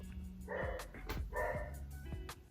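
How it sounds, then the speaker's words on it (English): A dog barks two or three times in short bursts, sounding a little distant and muffled, with faint background hum and no voices. "Why does she keep barking at nothing?"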